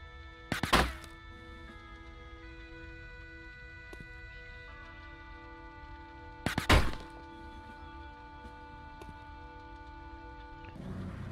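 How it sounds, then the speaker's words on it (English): Bullets striking a wall in the tactical video game Silent Storm, heard as two sharp, loud thwacking impacts roughly six seconds apart over a quiet, steady game hum. "I'm just gonna keep shooting this wall."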